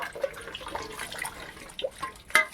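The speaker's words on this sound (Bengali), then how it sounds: "টিপটিপে জল পড়ছে" Water trickles and drips steadily from a tap, a close, light splashing with a few sharper drops standing out, no voices over it.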